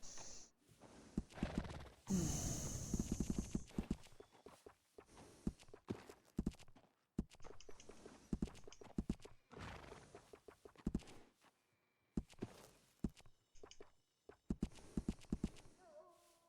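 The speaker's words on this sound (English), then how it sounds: "Can I help you with your horse?" In the Red Dead Redemption 2 video game, a horse's hooves clip-clop in uneven steps near a stable, with a faint whinny and soft game ambience, fairly quiet overall.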